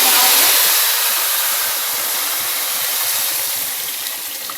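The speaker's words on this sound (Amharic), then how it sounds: "የፈላ ውሃ አለ እንጨምራለሁ" Boiling water pours into a cooking pot in a loud, continuous rushing hiss that stays close and fairly even, tapering slightly toward the end.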